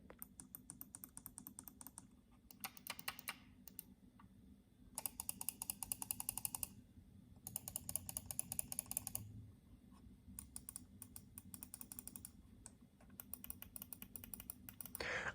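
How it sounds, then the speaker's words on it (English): Bursts of rapid, crisp plastic clicks from Corsair Harpoon RGB Pro mouse buttons, repeated in quick clusters separated by short pauses, close and distinct. "I really like the clicks on this mouse, guys."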